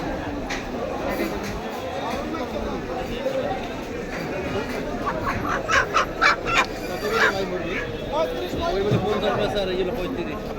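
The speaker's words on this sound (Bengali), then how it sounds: "এখানে মুরগি বিক্রি হয় পিস করে," Live chickens sold by the piece at Batha's Bangladeshi market in Riyadh, Saudi Arabia, cluck and squawk amid busy market chatter, with a short run of louder calls near the middle under people talking.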